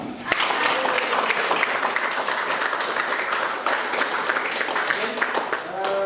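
A classroom group claps together at the end of a class session, producing dense, steady applause that runs on for about six seconds with little change in loudness.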